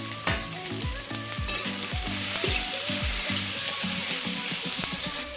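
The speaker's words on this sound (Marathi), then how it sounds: "ही भेंडी सुद्धा आपल्याला आता तेलामध्ये ना परतून घ्यायची" Okra sautéing in hot oil with onion and tomato for a Marathi-style bhindi masala, a steady close sizzle and frying crackle with repeated low knocks and scrapes of a utensil stirring in the pan, no voices.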